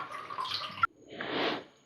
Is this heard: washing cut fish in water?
yes